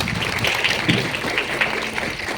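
A school assembly crowd of students claps together in a sustained, even round of applause, moderately loud and continuous from start to finish.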